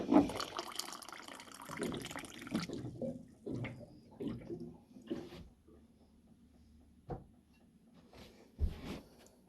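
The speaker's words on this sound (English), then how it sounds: "And for the cold, you just dispense it down." Cold water runs from a bottled water dispenser in short, quiet splashing bursts with gaps of near silence between them.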